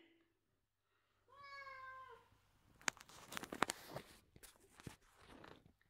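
A single drawn-out cat meow, then rustling, tapping and shuffling noises close by.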